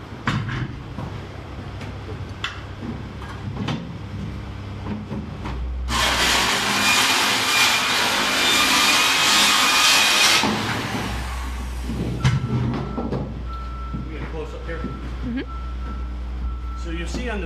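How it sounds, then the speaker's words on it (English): A circular saw cuts through the edge of a VIM level-entry shower pan, a loud broadband roar of about four seconds rising out of room noise, with voices nearby before and after. "We just wanted you to be able to see how it cuts with a skill saw."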